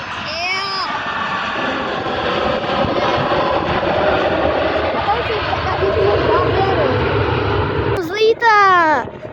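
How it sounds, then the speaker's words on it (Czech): A Czech Airlines airliner landing at Prague airport gives a loud, sustained jet-engine roar that fills the whole stretch, with a voice cutting in briefly near the end. "Jediný Czech Airlines letadlo přistává právě teď."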